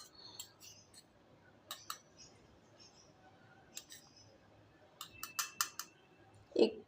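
A spoon adds gram flour (besan) to buttermilk in a container, making faint, scattered metallic clicks and taps over a quiet background, with a denser cluster and a soft thump toward the end.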